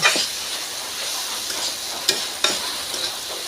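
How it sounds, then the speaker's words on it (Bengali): Boiled potatoes fry and sizzle in a pan, with a steady hiss and a couple of sharp stirring scrapes partway through, close and alone. "এখন আলু ভেজে নেব।"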